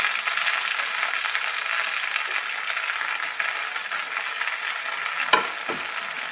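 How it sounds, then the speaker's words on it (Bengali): Onion and garlic frying with freshly added coriander leaves, a steady close sizzle of hot oil running throughout, with a couple of brief stirring scrapes near the end. "আমার পেঁয়াজ রসুনগুলো ভাজা হয়ে গেছে। এখন ধনিয়া পাতাটার মধ্যে দিয়ে দিবি।"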